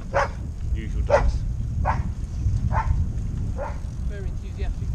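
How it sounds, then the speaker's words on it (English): A dog barks in repeated short bursts, roughly five energetic barks spread evenly, heard under steady background noise on a cycle tour through rural France. "Very enthusiastic doggy."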